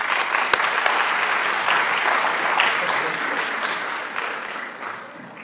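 Expo audience applauds a speaker with a thick, steady wash of clapping, fairly loud and sustained, gradually thinning toward the end.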